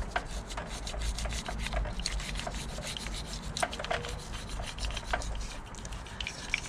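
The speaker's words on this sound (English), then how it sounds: "start giving that a nice good scrub" A brush scrubs road dirt off the brake caliper of a Kawasaki Versys 650, giving a quiet, steady rasping of repeated close strokes.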